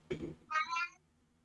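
A house cat lets out a single loud, close meow after a short burst of noise, then the room falls quiet with a faint low hum.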